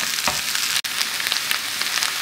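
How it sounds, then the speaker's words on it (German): Onions sizzling and frying steadily in a hot pan, a dense continuous hiss with small crackles throughout, close and fairly loud with no talking. "jetzt kommen die Zwiebeln. Also jeder hier Zwiebeln kommen jetzt hier rein und werden so lange geschmort"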